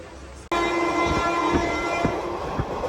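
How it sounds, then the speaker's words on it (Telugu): The Chennai–Visakhapatnam weekly superfast express runs along the rails and sounds a loud, sustained horn that starts abruptly and holds over the steady rumble and faint clatter of the moving train. "విశాఖపట్నం రైల్వే స్టేషన్కి దూసుకెళ్ళిపోతున్నాం మనం."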